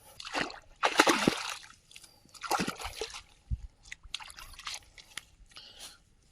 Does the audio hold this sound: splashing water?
yes